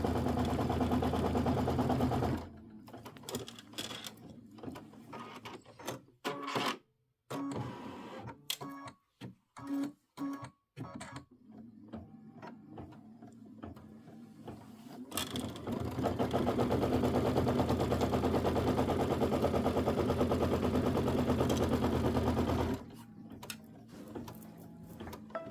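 Sewing machine running a quilting stitch on a pumpkins-and-potions quilt border, fast rhythmic mechanical whirring in long runs broken by short stops and stuttering bursts, close and steady.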